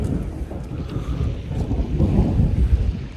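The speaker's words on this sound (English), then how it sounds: "It's also thundering." Thunder rumbles low and steady on the freezing Pikes Peak summit amid snow, sleet and hail, with heavy wind buffeting the microphone and swelling toward the end.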